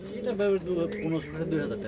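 Fancy pigeons coo in low, throaty, repeated phrases, close by, at a pigeon seller's in Rajshahi, with a murmur of people talking in the background.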